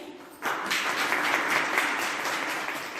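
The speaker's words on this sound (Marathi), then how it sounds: "त्यांच्यासाठी जोरदार टाळ्या झाल्या पाहिजेत" At a primary school event, an audience breaks into applause for a teacher's poem, clapping starting abruptly after a quiet moment and holding as a dense, steady roar of many hands.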